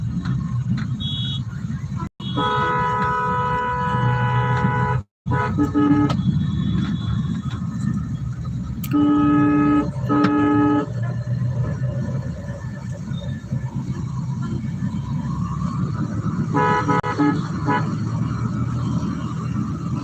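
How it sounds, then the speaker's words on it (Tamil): Busy city street traffic in Trichy, India, with several loud car horn honks sounding in short bursts and longer blasts over a constant rumble of engines and road noise. "எவ்வளோ டிராஃபிக் ஆகிட்டே இருக்குது பாருங்கள்"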